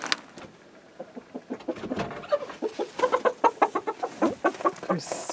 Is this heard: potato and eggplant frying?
no